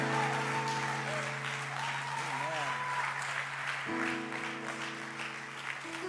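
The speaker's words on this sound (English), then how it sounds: "Give the Lord a hand clap as he comes." Church congregation clapping as a pastor comes forward, continuous hand claps under sustained organ chords and voices, moderately distant.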